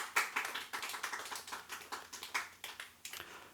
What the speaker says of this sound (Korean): 모든 수고하신 분들께 여러분 박수 한번 부탁드리겠습니다.